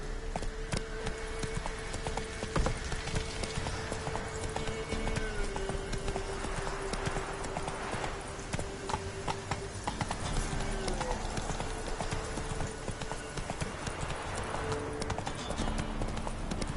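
Roach, a video game horse, gallops with fast rhythmic clip-clopping hooves that run steadily throughout, set against game ambience and a faint whinny.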